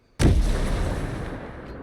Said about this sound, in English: he takes some shots, but he misses